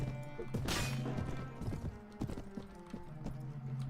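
A horse in mounted combat in the Mount and Blade video game: hoofbeats clatter steadily throughout, with a neigh and a few dull impact thuds mixed into the busy battle noise, close and fairly loud.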